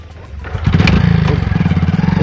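A motorcycle engine, ridden during a village picnic outing, rumbles close by after a brief quiet start, settling into a steady, throbbing idle-to-rev drone with no talking.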